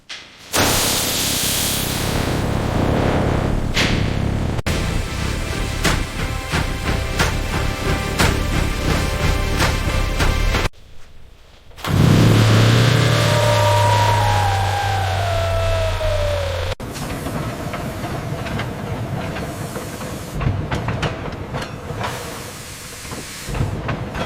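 A restored 1908 steam traction engine running, with continuous hissing steam and a rumbling mechanical chuff, loud and close, broken by brief edits and pauses.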